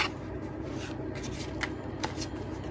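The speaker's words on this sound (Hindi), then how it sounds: "तो मैं हाफ ऑफ करके शफल कर लेता हूँ" Tarot deck shuffled in halves, a steady papery riffle and slide of cards with a few sharper snaps, close and soft with no voices.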